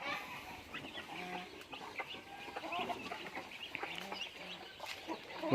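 Chickens cluck and chatter on a Thai farm where ducks and geese are also kept, a faint, busy layer of overlapping bird calls at close to middle distance.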